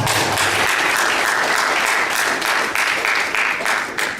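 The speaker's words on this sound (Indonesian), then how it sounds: "Tepuk tangan dulu." A church congregation bursts into loud, sustained applause, many hands clapping densely before it slowly begins to thin out.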